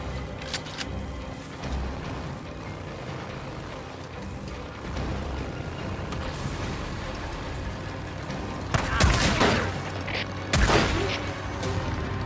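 Video game gunfire from Days Gone: sharp bursts of shots punctuate a dense, steady game soundscape, with two louder volleys standing out near the end.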